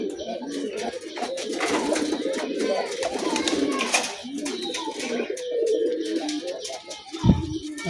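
A flock of baby pigeons coos continuously close by in a busy, overlapping chorus, with a person's voice partly under the calls and a brief knock near the end.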